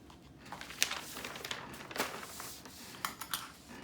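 Scissors snip through a dress pattern piece for a one-shoulder dress, giving irregular close crisp cuts and papery rustles at a low level.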